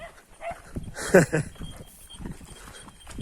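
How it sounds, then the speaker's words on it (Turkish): A dog barks a few times close by, sharp yips bunched in the middle, with outdoor rustling and faint movement around it. "Vallahi bayağı havladı ona da."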